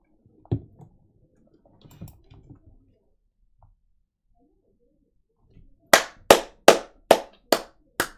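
A quick run of six or seven sharp hand claps in a steady rhythm follows scattered faint taps and shuffles at a card-game table; the claps are close and loud.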